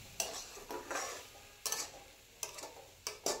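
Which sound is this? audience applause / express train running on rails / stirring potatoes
stirring potatoes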